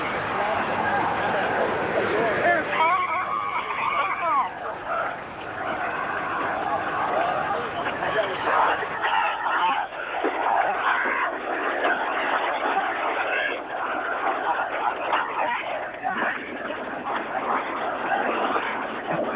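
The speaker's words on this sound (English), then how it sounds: "That was the sound of Iraqis cheering and jumping on that statue." Crowd of Iraqis cheering and jumping on a statue in Baghdad, a rough, roaring mass of voices over constant background rumble, captured distantly through a phone held up in the crowd.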